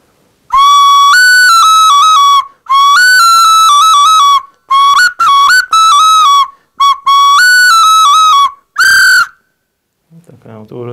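A handmade Izhorian clay whistle, still wet and unfired, is blown in a series of loud, close, warbling toots with short gaps between them, ending with a faint rustle.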